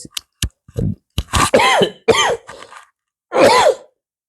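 A person close by gives a series of short coughs and throat clears, several separate bursts in quick succession followed by one longer cough, in a quiet room.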